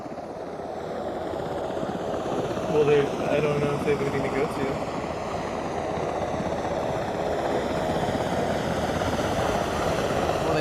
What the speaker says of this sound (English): Are these helicopters taking off?